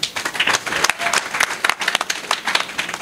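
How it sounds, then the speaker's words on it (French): An audience at an institute's integration day breaks into applause, a loud, busy patter of many hands with distinct sharp claps up front, continuous and slightly uneven throughout. "Applaudissez-le."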